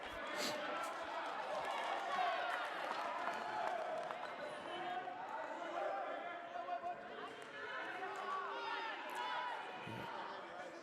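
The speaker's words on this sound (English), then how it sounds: "Crowd not too happy with whatever this call is" At a West Warwick versus Chariho high school basketball game, the gym crowd murmurs and calls out in displeasure after a foul call, with steady, distant chatter, some shouts, and scattered court noise and ball bounces over about eleven seconds.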